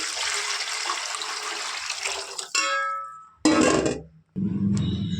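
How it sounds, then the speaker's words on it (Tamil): Water gushes into a cooking pot while turmeric rice (manja soru) with ponni rice is being made, a steady pour that breaks off into metallic clinks and then a second, shorter splash. "1 கிலோ பொன்னி அரிசிக்கு 3 பங்கு தண்ணி ஊற்றிக்கலாம்"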